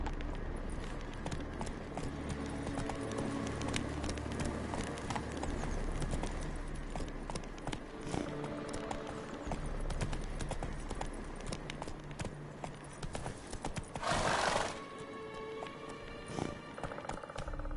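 In The Witcher 3, the horse Roach gallops steadily with a continuous rhythmic clatter of hooves, and a brief louder burst comes near the end.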